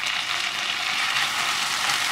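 Tomato and green chili frying in oil for a yam (suran) masala gravy curry, a steady, dense sizzle that holds at one level throughout, close and fairly loud, with no voices.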